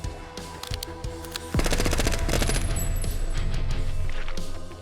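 Rapid bursts of automatic gunfire in a video game with heavy booming impacts, loud and continuous, starting lighter then erupting into sustained sound-effect-heavy firing.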